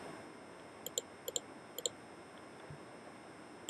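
A computer mouse clicks in a quiet room, three quick double clicks in a row, soft and close, alone with no talk.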